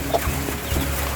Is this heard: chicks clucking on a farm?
yes